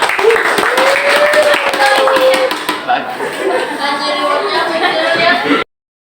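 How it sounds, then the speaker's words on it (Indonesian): Students in a classroom clap for everyone during a teaching performance session, scattered sharp claps at first under a voice, then a denser burst of clapping that cuts off abruptly. "beri tepuk tangan untuk semuanya."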